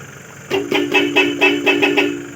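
A loud air horn fitted to a Hyundai Porter 2 truck blasts in a rapid rhythmic series of about seven honks after a brief quiet start, close and piercing.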